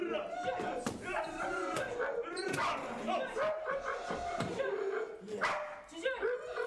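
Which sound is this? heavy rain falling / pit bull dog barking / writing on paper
pit bull dog barking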